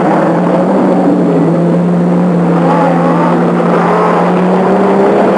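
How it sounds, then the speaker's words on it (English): An Audi Quattro rally car at a 1987 rallycross event at Croft circuit is held at its rev limit, a loud, close, sustained engine roar with a steady high buzzing tone that climbs slightly. "he blasts the Quattro across the finish line right on the rev limit"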